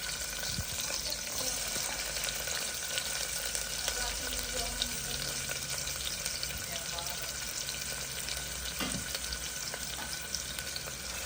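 Onions and cumin frying in a pan with curry leaves, a dense, even sizzle and crackle running throughout, close and steady with occasional faint stirring knocks.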